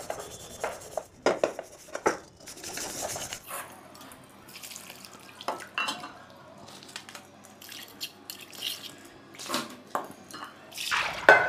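An iron kadhai wok is washed under a running tap, with bursts of splashing water, dripping and rubbing that start and stop irregularly, close and fairly clear.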